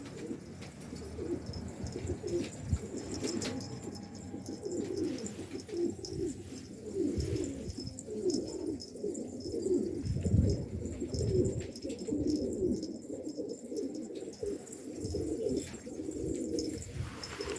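Several pigeons coo in low, overlapping, burbling calls that continue throughout, nearby and steady.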